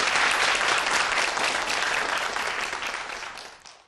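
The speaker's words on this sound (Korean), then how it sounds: "다시 한번 박수 부탁드릴게요." Dense, steady clapping from a large audience at a physics lecture, sustained for several seconds before tapering off at the end.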